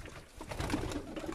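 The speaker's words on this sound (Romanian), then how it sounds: "Avem foarte mulți porumbei, fiindcă și mie îmi plac." Pigeons coo softly in a loft, a low, gentle burbling call repeated in a short burst with a little background noise.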